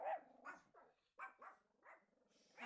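Several dogs bark in quick repeated bursts nearby, sharp yelping barks in irregular clusters with short silent gaps, with no talking over them.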